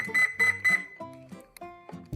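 An RC boat's electronic speed controller gives three short, loud calibration beeps in quick succession, then quieter tonal chirps trailing off, close by with no talking.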